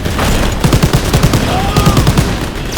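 Rapid bursts of gunfire and grenade blasts in a Call of Duty WWII train mission, loud and continuous, with repeated shot clusters over a steady rumbling battle din.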